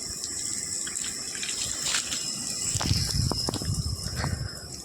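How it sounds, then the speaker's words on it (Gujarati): Water runs steadily from a hose onto a vehicle being washed outdoors, a continuous gushing splash at moderate distance, with a few knocks and thuds and no talking. "ગાડી પાણી ચાલુ કરી છે આગળના ભાગમાં"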